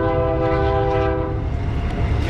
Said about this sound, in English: Can't get away from the trains even yet.